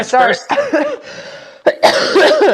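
Someone talks, then a single sharp cough breaks in before he continues speaking.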